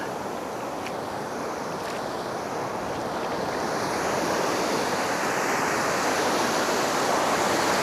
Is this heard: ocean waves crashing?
yes